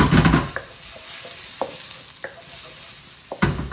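Onions dropped into a hot pan for a restaurant-style chicken biryani, sizzling steadily with a loud burst at first, then a softer hiss broken by scattered stirring clinks and scrapes.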